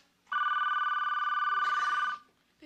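A telephone rings in one continuous electronic trill lasting nearly two seconds, loud and close, with no talk over it.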